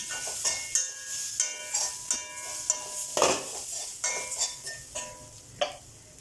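Jackfruit thoran is stirred in a pan with a metal spoon: a series of sharp scraping clinks recurs at a brisk, uneven rhythm, with a faint sizzle underneath.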